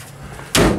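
A Samsung DV40J3000EW/A2 electric dryer door being shut, one short loud thud close by after a quiet room hum, no talking.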